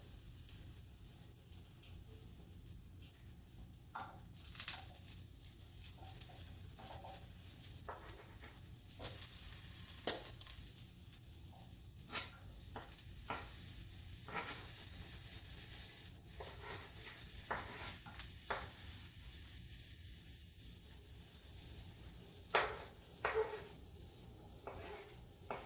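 Asparagus and green peppers stir-frying in a pan for a Southern stir fry, a steady low sizzle broken by frequent scraping and stirring clatters of a utensil against the pan, close and fairly quiet.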